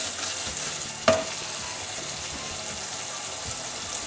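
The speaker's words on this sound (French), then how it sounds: "je laisse cuire les épices et les tomates à feu doux pendant 5 minutes" Spices and tomatoes for an Indian courgette kofta curry simmer in a pan over low heat, giving a steady soft sizzle throughout with one brief sharp clink near the start.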